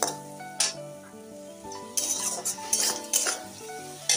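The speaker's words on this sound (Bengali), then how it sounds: "দিয়ে আমি ভালো করে নেড়ে চেড়ে নিচ্ছি।" Spices with a little water, including Kashmiri chilli, are stirred in a pan, with a metal spoon scraping and clinking against the pan in uneven bursts over a faint sizzle and no voices.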